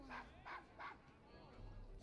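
Desmond, a dog in the video game Assassin's Creed Syndicate, barks three times in quick succession, fairly faint and set against quiet background ambience.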